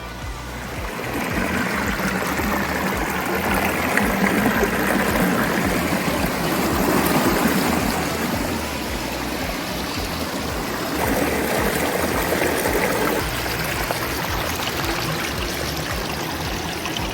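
Water pours steadily over a built backyard waterfall 3.5 feet high, a constant close rushing and splashing wash that holds an even level throughout, with no voices.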